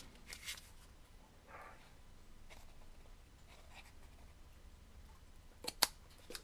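Scissors trim the long tail of a paper craft piece in a few quiet, close snips, a sharper cut near the end standing out against faint room noise.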